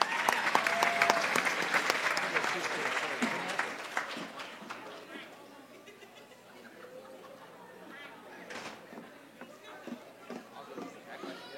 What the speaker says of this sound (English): Can we get one more round of applause for Daisy?